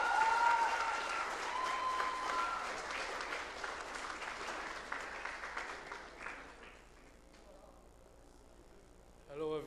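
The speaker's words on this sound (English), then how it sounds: "Can we have a big round of applause for him," Conference audience gives a dense round of applause that starts full and close, then gradually thins and fades into near quiet.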